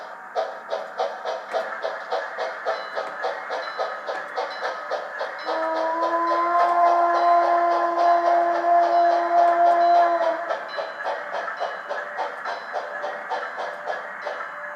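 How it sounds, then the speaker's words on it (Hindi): An Indian model train set running on its track gives a steady rhythmic chugging pulse, with a sustained horn-like tone sounding over the middle stretch before the chugging carries on alone, fairly close and clear. "इस ट्रेन को मैं अगर चलाना चाहूंगा सामने की तरफ तो एक साथ ये साउंड भी देगा"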